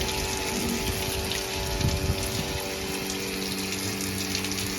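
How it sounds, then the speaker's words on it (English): Water pours steadily over a fiberglass surface being rinsed after stain-remover testing, a continuous loud gushing splash with a constant hum underneath and no speech. "I'm gonna take it and just run some water over it, get everything kind of rinsed"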